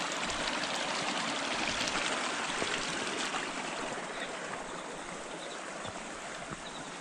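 Small mountain stream along the uphill trek trail from Nirgurpara toward Harihar Fort, a continuous rushing and trickling of water, moderately close and steady with no voices.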